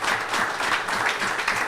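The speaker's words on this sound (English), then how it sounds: "I want us to applaud the NEP team" A short, loud burst of crowd clapping at a commissioning ceremony for an agriculture science complex in Portsmouth, Dominica, lasting under two seconds.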